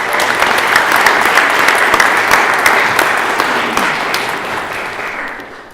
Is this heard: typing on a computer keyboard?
no